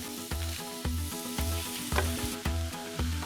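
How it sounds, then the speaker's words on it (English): Ground beef and onions browning in a pan give a close, steady sizzle, with regular spatula scrapes and taps as the meat is crumbled, roughly twice a second. "I'll just crumble up the meat and let it brown for a little while"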